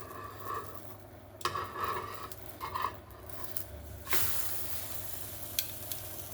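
Pancake batter sizzles in a frying pan with a soft, steady hiss, broken by a few sharp scrapes and clinks of a utensil against the pan.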